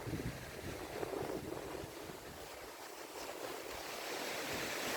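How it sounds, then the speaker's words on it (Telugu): Water spilling down from a barrage into a reservoir in Telangana, heard as a steady, broad rushing roar mixed with wind buffeting, close and continuous with no talking. "సో వాటర్ అలా పడి వెళ్ళిపోతున్నాయి, చూస్తున్నారుగా"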